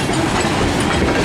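A CSX freight train carrying tank cars rolls past near the track, a loud, dense rumble with rhythmic wheel clatter filling the whole moment without pause.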